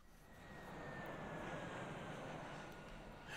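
A propeller or jet aircraft in the 1999 strategy game Sid Meier's Alpha Centauri flies toward a base, heard as a steady, moderately quiet engine drone that swells slightly and holds for a few seconds with no talking.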